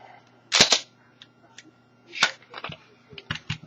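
Pistol magazines are released from a Kahr T9 and a Glock 19, giving two sharp metallic clicks about two seconds apart, followed by lighter close handling clacks.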